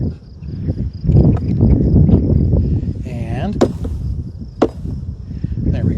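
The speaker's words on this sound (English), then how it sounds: "we're going to go ahead and try to tap these bees off" A beekeeper taps bees off a beehive comb frame during a hive inspection: a few sharp knocks and thumps over a buzzing background, with a brief spoken word.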